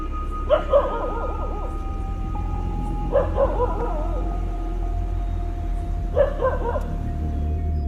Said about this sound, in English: Out of nowhere, a dog starts barking loudly, easily seeing trouble.